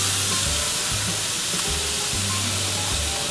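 Skirt steaks and chicken sizzle steadily on a grill for fajitas, a close, continuous frying hiss with a low rumble pulsing underneath; no one speaks.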